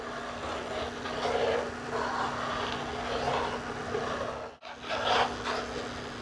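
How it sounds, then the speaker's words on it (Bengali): Custard mixed in milk is stirred nonstop in a pan, making soft, repeated scraping sweeps that swell and fade in a loose rhythm with a brief pause partway through. "কাস্টার্ডটা দিয়েই অনবরত নাড়তে হবে"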